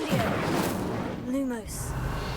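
A fire spell is cast in Hogwarts Legacy, making a whooshing, rumbling burst of flame. A voice speaks over it, and the sound rises and swells briefly.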